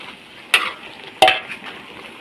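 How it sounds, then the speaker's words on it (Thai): Luffa with pork and fresh chili sizzles in a big wok, a soft frying hiss broken by two sharp scrapes of a spatula against the pan. "ผัดบวบกระทะใหญ่เลยจ้ะ เป็นบวบหอม ผัดใส่หมูใส่พริกพริกสด"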